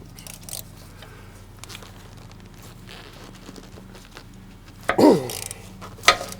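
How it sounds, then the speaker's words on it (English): Ratchet working on the tight bolts of a Detroit Series 60 12.7L water pump, low quiet mechanical clicking followed by two louder metallic bursts as the bolts give. "If this doesn't work, we need a longer ratchet."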